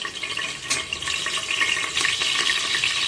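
Chopped green chillies sizzle and crackle in hot oil inside a pressure cooker, a steady close frying hiss with occasional sharper pops and no talking.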